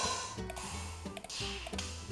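A looped drum beat programmed in FL Studio, with open hi-hats ringing out in sustained, sizzling washes between kick and snare hits, steady and fairly loud.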